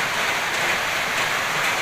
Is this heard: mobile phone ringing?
no